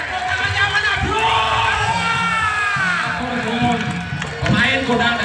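An audience at a tiban stage art show in Kanigoro cheers and shouts loudly, with many overlapping voices and whoops swelling and fading nearby. Someone talks over the crowd.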